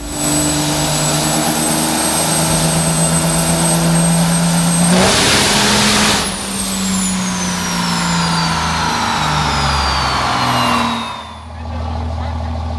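A high-horsepower engine, around 2,000 horsepower, roars steadily and loud during a dyno test, a sustained drone with a sharp surge and shifting whine partway through before dropping off near the end.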